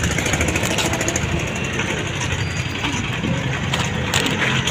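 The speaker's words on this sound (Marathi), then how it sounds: "भरदा वेगाने गाड्या येतात हायवे असल्यामुळे" Loud, continuous roar of fast-moving vehicles rushing past on a highway, with heavy engine rumble and no pauses.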